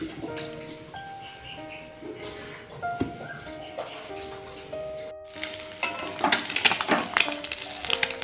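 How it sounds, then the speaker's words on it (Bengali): Kajli fish frying in a pan, with a soft, low sizzle under faint background music that grows into a louder, crackling spatter toward the end. "এদিকে কিন্তু মাছটাও বেশ সুন্দর ভাজা হয়ে গেছে"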